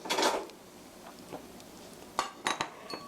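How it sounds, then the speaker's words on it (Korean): Eggs are beaten in a bowl for a cheese omelette, giving a few quiet clinking, tapping strokes of a utensil against the dish, with short pauses between them. "달걀을 풀어 보겠습니다."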